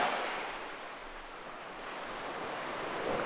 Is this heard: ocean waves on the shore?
yes